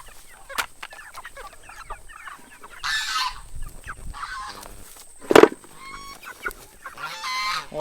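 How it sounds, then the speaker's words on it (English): Geese honk and chickens cluck in a rainy backyard flock, giving scattered calls near and far, with one loud honk standing out amid the clucking. "What is that goose saying?"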